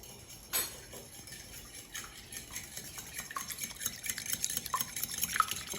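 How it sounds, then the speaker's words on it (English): Eggs are whisked in a bowl for a pumpkin dump cake, a fast, steady swishing with light metallic ticks that grows busier toward the end, close and without talk. "And now I'm going to whisk the eggs."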